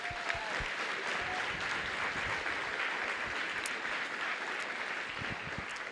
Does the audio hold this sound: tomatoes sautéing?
no